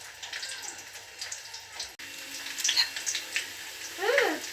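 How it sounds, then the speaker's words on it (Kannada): Koddai fish fries in a pan with a close, crackling sizzle and popping spatters. A soft clunk comes midway, then the sizzling grows busier toward the end. "ಇದು ಒಂದು ಸೈಡ್ ಫ್ರೈ ಆಗಲಿ"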